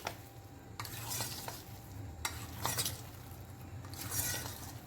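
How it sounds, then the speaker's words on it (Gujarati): Soya chunks being stirred and tossed in flour to coat them, making quiet scraping and rustling bursts, several distinct stirs with faint clinks of utensil against the bowl, close and soft. "સારી રીતે કોટ થઈ જાય એ રીતે આપણે આમ મિક્સ કરી લઈશું બધું"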